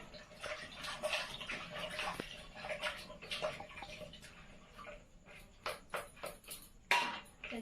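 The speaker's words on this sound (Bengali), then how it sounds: "সব সবজি কেটেছি, এগুলো সব জলে দিয়ে দিচ্ছি" Chopped vegetables being washed in a bowl of water, with irregular splashes, sloshing and wet clatter as the pieces are stirred by hand, close and moderately quiet.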